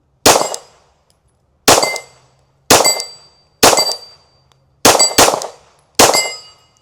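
A Glock pistol fitted in a MetaTactical MX-1 conversion kit fires seven loud, sharp shots outdoors, spaced about a second apart with a quick double near the end, each decaying quickly.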